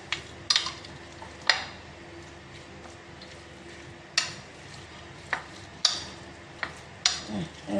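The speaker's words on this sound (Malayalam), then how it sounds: "ഇത് നമ്മൾ നേരത്തെ ഇടിച്ചു വെച്ച മുളക് അത് ഇതിന് മുകളിലോട്ട് തൂവിക്കൊടുത്ത് ഒന്ന് ഇളക്കി എടുക്കാം" A spoon stirs brinjal chutney topped with crushed chilli in a pan, making sharp intermittent taps and scrapes against the metal over a faint low sizzle.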